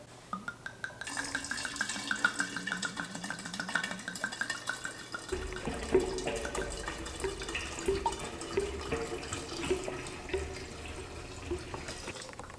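A whole bottle of red Garnacha wine glugs and splashes into a sangria pitcher, a close, continuous pouring and trickling of liquid that runs alone without talk.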